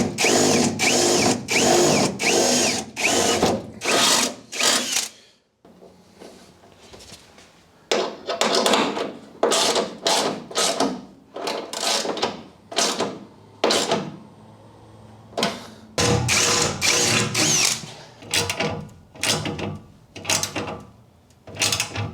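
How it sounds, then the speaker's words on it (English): A power drill re-bores a hole in a metal panel on a dirt bike canopy rack, firing in repeated loud bursts of a few seconds each, with short gaps and a quieter stretch in the middle. "So I'll have to re-drill that first"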